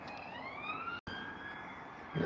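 A police car siren wails along a roadside, its rising and falling tone continuous and fairly near, with a brief cut partway through and a thump of noise at the end.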